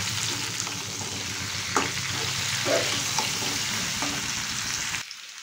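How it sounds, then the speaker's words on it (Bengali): Taro (ghatkachu) pieces fry in a pan over a medium gas flame, giving a steady, dense sizzle with faint stirring ticks that runs continuously and then cuts out abruptly near the end. "দু থেকে 3 মিনিট গ্যাসের ফ্লেমটা মিডিয়াম করে কচুটাকে একটু ভেজে নেব।"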